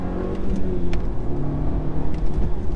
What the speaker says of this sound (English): the exhaust is doing bits for a stock S3